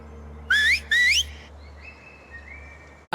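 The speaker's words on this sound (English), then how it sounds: "There, yep, communicating through whistles." Seraphites in The Last of Us series signal each other with two sharp rising human whistles, then fainter longer whistles in an outdoor green setting, followed by a brief click.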